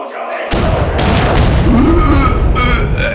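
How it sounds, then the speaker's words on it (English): A loud explosion sound effect bursts in after a half second of quiet: a sharp boom followed by a rolling, crackling roar that sustains for the rest of the clip. "Explosion!"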